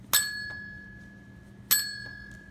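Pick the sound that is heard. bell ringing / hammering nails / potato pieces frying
bell ringing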